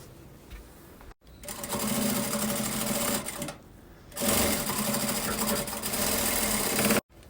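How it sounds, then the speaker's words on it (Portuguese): A sewing machine runs in two long, steady bursts, stitching through a plastic visor on a small pin-up fabric box, with brief pauses between runs and no talking. "passar uma costurinha aqui, ó, só nessa parte do plástico, de segurança para prender"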